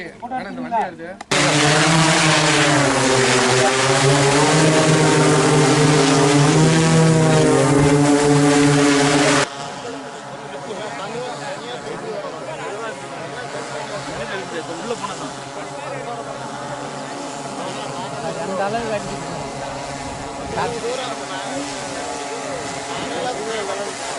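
An agricultural spraying drone flies overhead at a farm field day in Namakkal, its loud steady multi-rotor buzz dominating at first, then dropping away as the drone moves off, with crowd talk underneath.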